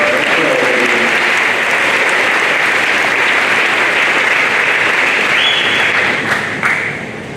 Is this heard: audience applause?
yes